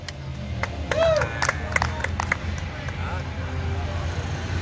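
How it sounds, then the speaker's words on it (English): A crowd at an outdoor bonfire racing event applauds a runner-up with scattered clapping, whoops and whistles, all mixed with nearby chatter and people talking. "let's have a round of applause for your runner-up tonight in Advanced Juniors, John Root"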